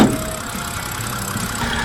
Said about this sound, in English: Yeah, it's whistling a little bit.